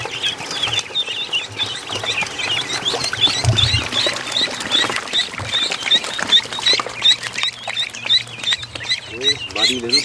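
Muscovy ducklings outdoors, a continuous run of high, thin peeping calls repeating rapidly, with rustling and bumping nearby and a person talking in the background.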